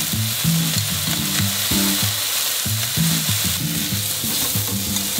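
Salted chicken pieces fry in a pan for pumpkin risotto, a loud, steady crackling sizzle close up, with rhythmic scraping and stirring strokes repeating about once a second and no voices.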